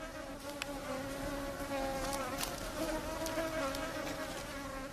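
Swarming mosquitoes and other insects whine steadily at a salty lake in a Sahara oasis in Libya, a dense, continuous buzz with a few louder wingbeats passing close, no voices.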